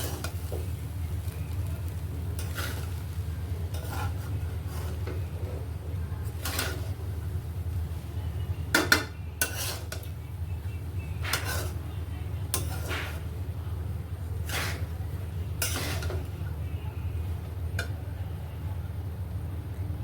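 Fried rice being stirred in a pan, a steady low sizzle running throughout with repeated scraping strokes of a spatula at a regular rhythm, close and moderately loud, with one sharper clank near the middle.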